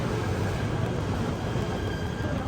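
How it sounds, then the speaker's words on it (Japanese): A train pulling into a platform at a Kuala Lumpur station, steady loud rumble and rolling noise throughout with a faint high whine above it, with no clear talk over it. "30分ほど待っていると帝国通り電車が到着。"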